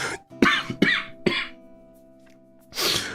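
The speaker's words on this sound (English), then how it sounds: "you really cough like a dad?" A person coughs several times in quick succession, then pauses and coughs once more at the end, close up over a faint steady hum.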